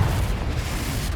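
A Confringo explosive spell going off in the video game Hogwarts Legacy, a brief low rumbling boom that fades, moderately loud and with no talk.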